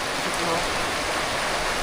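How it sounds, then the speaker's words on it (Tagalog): Rain falls steadily outdoors, a dense, even hiss of drops pattering on surfaces that fills the whole moment without pause, loud and close. "Salamat sa ulan, Lord!"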